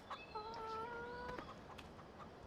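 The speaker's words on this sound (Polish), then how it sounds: "Tu jeszcze są kury." Chickens in Farming Simulator 15 give a short clucking call with a clear tonal squawk, faint and brief over a quiet background.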